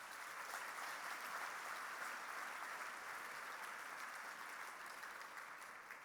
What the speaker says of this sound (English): Another round of applause for them all.